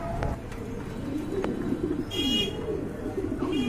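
Fancy pigeons in a market pen coo in repeated low, rolling calls, close and clear over a busy background with faint chirps; nobody speaks.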